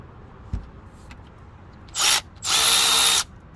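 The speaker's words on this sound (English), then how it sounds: "this is a long reach ratchet made by Fuel, brushless, with M12 battery" Milwaukee M12 Fuel brushless long reach ratchet in a garage, a faint click followed by two short whirring bursts, the second one longer, close up and with no talking.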